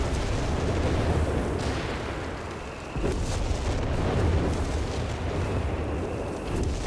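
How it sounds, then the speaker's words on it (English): Vesper rocket artillery firing in Company of Heroes 3, a dense, continuous roar of launches and explosions with a brief dip midway, loud and full. "Vespers firing again here."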